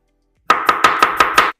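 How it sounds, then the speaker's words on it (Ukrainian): Six quick, sharp knife chops finely slicing onion on a cutting board in an even rhythm, close and crisp, with silence before and after. "Дуже тоненько нарізаю цибульку."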